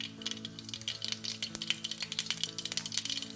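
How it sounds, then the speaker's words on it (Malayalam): Mustard seeds popping in hot coconut oil, a rapid crackle of many small sharp pops over a steady low sizzle, close and busy without pause. "കടുക് പൊട്ടിക്കഴിയുമ്പോൾ"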